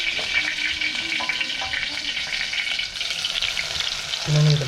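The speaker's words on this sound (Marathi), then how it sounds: "त्याच्यात आपल्याला लसूण टाकायचं" Garlic hitting hot oil for a dal tempering, a dense, close sizzle and spatter that holds steady and is briefly stirred, with a short low hum near the end.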